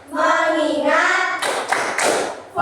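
A classroom of children chants a phrase together, then claps in a quick rhythmic pattern, a few sharp group claps close by.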